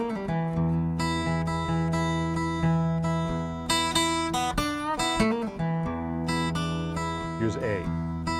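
An electric guitar plays a bluesy lick of plucked notes from the E blues scale over shifting sustained chords, up close and clear, with no talking.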